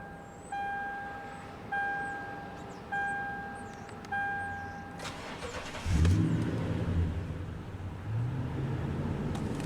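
Four short electronic chimes sound, then a 2010 Toyota Tundra Limited Platinum pickup engine cranks and catches with a loud roar, settling into a revving idle with another rev near the end.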